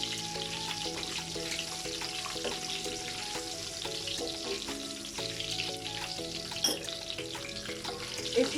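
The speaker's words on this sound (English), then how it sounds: "Just going to allow all these aromas to fry in, just absorbing all their flavors." Aromatic whole spices frying in a pan for a chickpea and paneer biryani, a soft continuous sizzle with light clicks of stirring and tonal hum in the kitchen, fairly quiet and without talk.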